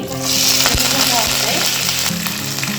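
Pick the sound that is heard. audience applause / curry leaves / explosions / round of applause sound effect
curry leaves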